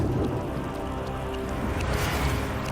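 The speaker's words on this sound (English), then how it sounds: "Until the retroact rain began to fall." Rain falls steadily in the fantasy video game Wuthering Waves, a constant close hiss of drops pattering on surfaces with no voices.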